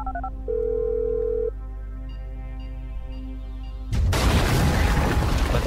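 A phone-triggered bomb detonates in GTA 5: dialing tones beep first, then a sudden loud, roaring explosion bursts in and rumbles on through the rest of the clip.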